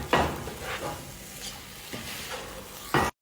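Egyptian rice, washed but not soaked, is stirred in olive oil in a pot, with scraping spoon strokes and a soft sizzle at the start and end of a short, quiet stretch.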